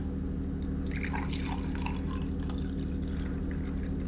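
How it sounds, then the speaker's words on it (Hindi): Fresh mint lemon juice is poured into a glass, a soft liquid splash and trickle with a few drips over a steady low hum. "मैं गिलास के अंदर इसको डेल के बताता हूँ।"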